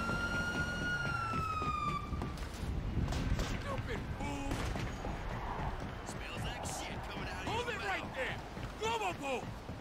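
Police sirens in the video game Grand Theft Auto Online wail and rise in pitch under a constant game soundscape, while a person talks over them.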